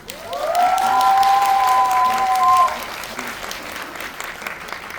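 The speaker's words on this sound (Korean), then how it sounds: "다시 한번 우리 아카소이지 배우님께 박수 부탁드립니다" An audience at a film screening and Q&A with an actor, at Megabox COEX in Seoul, gives a loud round of applause. A rising whistle-like tone rings over the clapping for the first few seconds, then the clapping fades to a quieter patter.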